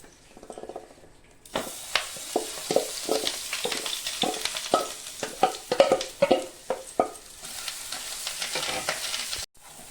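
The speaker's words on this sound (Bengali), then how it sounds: "বুটের ডালের পেস্টটা একদম গ্যাসটা কম করে আস্তে আস্তে অল্প ভেজে নিতে লাগবে" Chana dal paste fries slowly in ghee with turmeric and salt on a low gas flame, a soft steady sizzle under a run of quick close scraping stirs, starting abruptly and stopping near the end.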